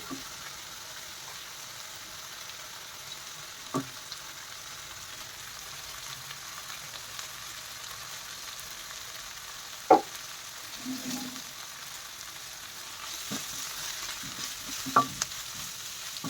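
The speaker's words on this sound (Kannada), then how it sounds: "ಈರುಳ್ಳಿದು ಹಸಿ ವಾಸನೆ ಹೋಗೋವರೆಗೂ ಎಣ್ಣೆಯಲ್ಲಿ ಫ್ರೈ ಮಾಡ್ಕೋಬೇಕು" Quiet, steady sizzling of onion frying in oil, broken by a few sharp clinks of a spoon stirring in the pan.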